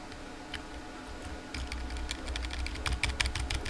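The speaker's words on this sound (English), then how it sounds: "Oh! Extreme button clicking." Rapid, frantic clicking on a computer keyboard, sparse taps at first, then a dense burst of keystrokes, fairly close and with no talk over it.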